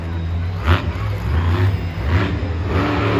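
El Toro Loco monster truck at Monster Jam Tampa, its big engine roaring and surging in rough revs during a freestyle run, loud and close over a constant stadium din.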